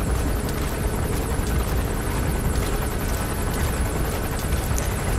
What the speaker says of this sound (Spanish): El helicóptero no nos ha visto.